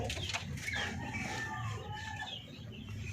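Darag native chickens cluck and chatter nearby while being fed fruits and vegetables: a busy mix of overlapping clucks and short calls at moderate volume.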